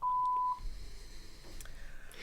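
A single sustained electronic beep from a button, steady and clear for about half a second, then only faint background noise.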